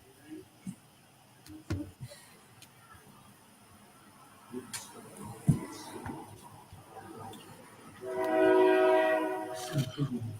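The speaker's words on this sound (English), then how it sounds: "Train, I hear a train." A train sounds its horn in the distance, rising as a steady harmonic blast near the end. Scattered small clicks and knocks come from nearby beforehand.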